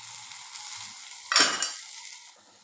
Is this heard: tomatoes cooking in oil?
yes